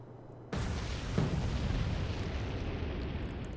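A torpedo explosion in the Atlantic Fleet naval video game, a sudden loud boom followed by a long rumbling roar that stays heavy and sustained to the end.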